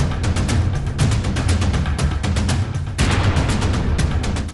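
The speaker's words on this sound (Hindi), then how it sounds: "घड़ी में 9:30 बजे अचानक इलाका गोलियों की घन गरज से गूंज उठा।" Dense gunfire rattles in rapid bursts during an attack on the Chinese consulate in Clifton Block 4, sharp cracks overlapping continuously with heavy, loud echoing reports throughout.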